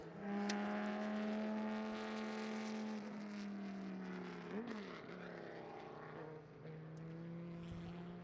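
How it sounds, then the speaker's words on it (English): A Dodge Viper race car climbing a hill-climb course, its engine a steady loud drone that holds pitch, dips slightly and shifts gear partway, then continues at a lower, fainter level as it passes and moves off. "this Viper looks good for a decent lap here"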